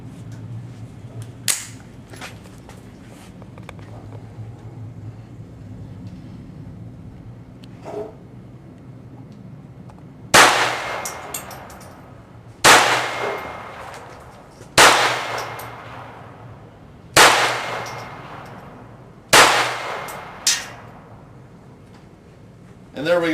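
A Ruger 22/45 Slab Side pistol fires five spaced shots at a steel target 25 yards away at an outdoor range, each a sharp crack with a ringing hit, after quieter handling noises and low background hum.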